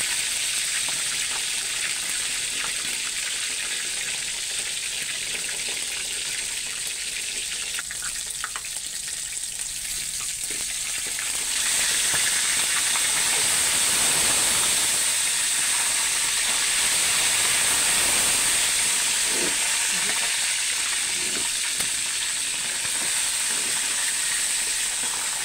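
Chicken pieces fry in hot oil in a pan, a steady broadband sizzle and hiss that swells louder partway through and holds, with no talking.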